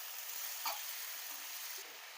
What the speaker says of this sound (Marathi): हे आल्याचे तुकडे टाकून घ्यायचे आणि व्यवस्थित सारखं हलवत राहायचं, म्हणजे सर्व आपलं टोमॅटो आहे तो व्यवस्थित परतून होईल